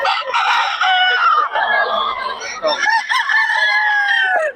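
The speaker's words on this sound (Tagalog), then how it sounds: "Yan natin yung manok." A rooster crows loudly and close by in a single long, wavering call, with a brief break partway through and a rising finish.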